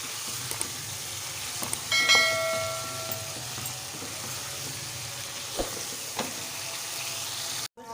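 Beef sizzles steadily as it fries in oil with garlic, ginger and spices, a constant close crackle with occasional stirring clinks and scrapes.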